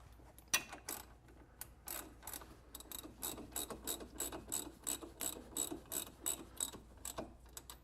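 A ratchet tightens brake bolts up close in a steady run of crisp clicking strokes, about a dozen and a half bursts in a regular rhythm, with no talking.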